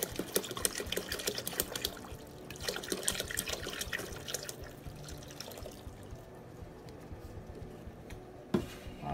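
Water is poured from a container into a pot for gumbo, a steady splashing and gurgling pour close by that runs for several seconds and then tapers off, with a short clunk near the end.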